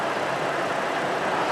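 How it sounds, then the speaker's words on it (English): A car engine idles after a new battery and alternator fit, a steady broadband hum and rumble with no talk. "right now the engine running"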